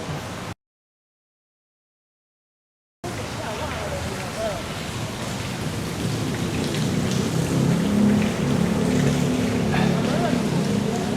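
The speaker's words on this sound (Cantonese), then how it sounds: "佢叫有個瀑布" An indoor waterfall rushes and splashes steadily after a brief silence, a continuous wash of falling water with faint voices murmuring in the background.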